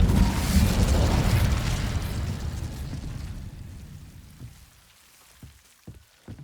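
Incendio fire spell cast in Hogwarts Legacy: a loud roaring burst of flame that fades gradually into quieter crackles and pops, with no talk.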